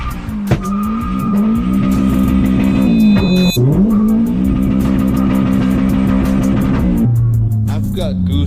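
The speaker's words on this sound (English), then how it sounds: "Let's test drive the car now." A 502 hp race-prepared Honda Civic on a test drive, engine droning loud and steady at high revs with a sharp shift break midway and another gear change near the end, close and dominant.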